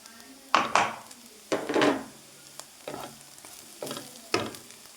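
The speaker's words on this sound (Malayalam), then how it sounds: "ചിക്കൻ പൊടിച്ച് വറുത്തത് റെഡി ആയിട്ടുണ്ട് കേട്ടോ." Chicken coated with chili powder, masala and turmeric fries in a pan, stirred in about six separate scraping, sizzling bursts separated by short quiet gaps, close and clear.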